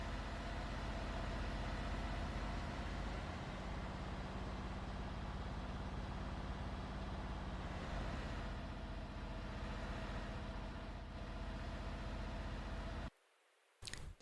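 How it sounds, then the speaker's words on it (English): A truck engine in the TruckersMP truck-driving game, a faint steady low idling rumble that runs on evenly, then cuts out abruptly near the end with no talk. "you could still hear that engine"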